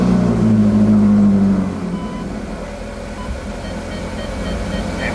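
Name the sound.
car engine starting and reversing beeps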